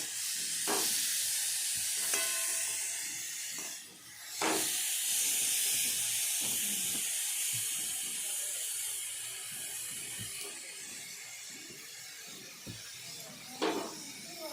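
Cut turnips slide into a hot pan (kadai) for Bengali turnip ghonto, giving a steady bright sizzle with a few sharp crackles and pops, close and continuous, with no talking.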